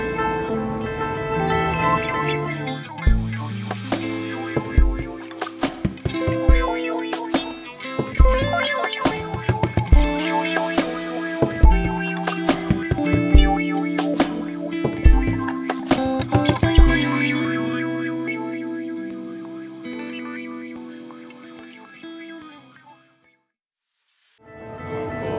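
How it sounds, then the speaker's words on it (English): Synth sequence played through an Alexander Super Ball delay pedal, stepping through pitches including octave jumps, with rhythmic repeating notes and echo trails that thin out and fade to near silence at the end. "So whatever Andy plays is what we get out of the delay"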